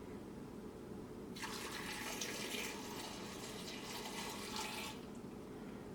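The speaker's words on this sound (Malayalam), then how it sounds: "ഇതിലേക്ക് ആവശ്യത്തിന് വെള്ളം ഒഴിക്കുക." Water poured into a pressure cooker holding potatoes, a steady rushing splash that starts abruptly, runs for about three and a half seconds at a constant level, then stops, leaving quiet background hum.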